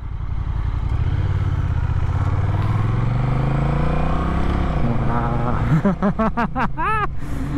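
A 2024 Honda Rebel 1100 DCT motorcycle being ridden, its engine droning steadily and climbing in pitch, then revving hard in quick surges near the end.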